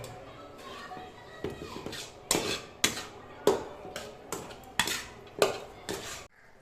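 A fish mixture with black pepper is stirred in a pan with a metal utensil, which knocks and scrapes against the pan in a string of regular, fairly loud clanks up close.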